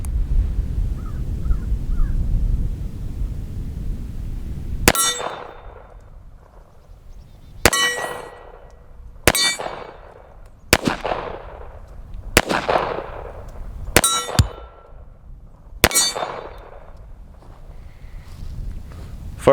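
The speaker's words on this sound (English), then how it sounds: "These are the first shots out of the Tisas 1911 A1." Seven sharp gunshots from a Tisas 1911 A1 pistol, each followed by a ringing clang of steel targets, fired at uneven intervals at an outdoor range after a quiet start.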